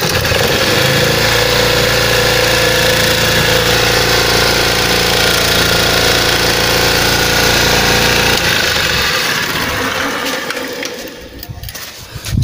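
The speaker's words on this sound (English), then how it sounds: "the DC motor you guys are seeing right here was gotten from a vehicle radiator fan" A DC motor salvaged from a vehicle radiator fan runs steadily with a loud, continuous whirring drone that holds for about eight seconds, then winds down and fades toward the end.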